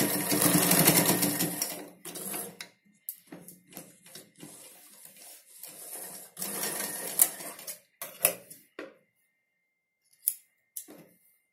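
Sewing machine stitching Punjabi-style dress pants: a loud, fast run of stitching opens, followed by shorter intermittent bursts and pauses as the fabric is guided, all close and without talk.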